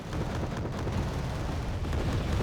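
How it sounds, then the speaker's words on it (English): MiG-29 jets dropping bombs on crossroads in the Wargame Red Dragon strategy game, heard as a continuous deep rumbling roar of blasts that stays heavy and sustained without a break. "MiG-29's dropping in bombs on the cross sections."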